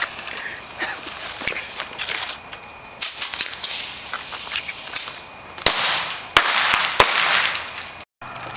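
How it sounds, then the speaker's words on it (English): Fireworks set off outdoors on the Fourth of July, a series of sharp, irregular cracks and pops, some close and loud, with crackling bursts in between and brief pauses. "Light off fireworks."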